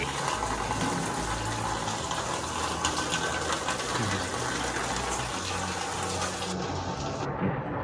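A dense, steady roar of falling water fills the scene, loud and unbroken, then cuts off abruptly near the end.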